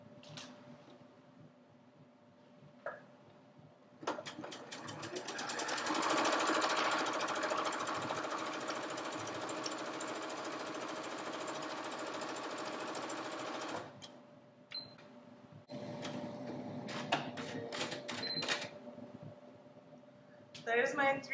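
A home sewing machine stitches along a fabric edge for a French seam, its motor whirring steadily for several seconds, then stopping and restarting in shorter runs, with a faint voice underneath.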